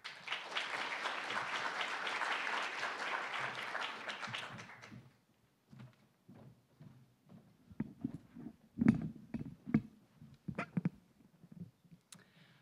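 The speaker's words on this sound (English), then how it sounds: "let's give her a round of applause" Round of applause at the 2019 Global Food Security Symposium, a loud, dense burst of many hands clapping that fades after about five seconds into scattered footsteps and stage shuffling.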